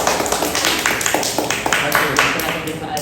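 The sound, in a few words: classroom applause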